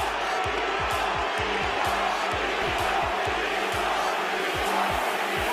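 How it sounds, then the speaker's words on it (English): Arena crowd at a mixed martial arts bout between two fighters roars steadily, a dense, continuous wash of shouting and chanting throughout, with rhythmic low thumping underneath. "I don't know if they're screaming Vitor or Tito."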